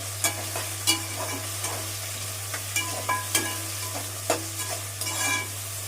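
Onions, green chillies and curry leaves fry in a pan, giving a steady soft sizzle broken by repeated scraping stirs of a spoon, with no talking over it.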